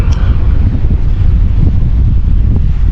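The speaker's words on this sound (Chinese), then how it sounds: "要不现在这大风一刮老冷了。" Strong gusts of wind blowing straight into the microphone outdoors on a cold day in Yongzhou, Hunan, a loud, continuous low rumble of buffeting with no break.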